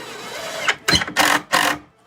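A power driver drives screws into pallet wood, giving three close, loud whirring bursts in quick succession after a brief lower hum.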